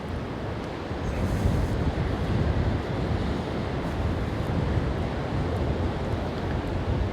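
Steady wind buffets the microphone on a beach as the wind blows from behind, a continuous broadband roar with waves and surf mixed in throughout, loud and unbroken with no talking.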